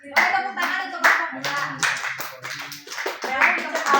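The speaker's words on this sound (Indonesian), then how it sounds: "Boleh tepuk tangan untuk kelompok" Classroom applause for a group of high school students, several bursts of hand clapping close by with voices talking and cheering over it.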